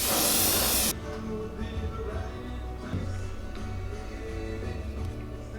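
Airbrush or spray gun applying base coat paint to a musky fishing bait, a loud steady hiss for about a second, then quieter background with soft clicks and faint hum.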